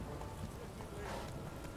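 Roach the horse trots in The Witcher 3, soft hoof clops mixed into a steady rain-like wash, faint and partly buried under the ambience.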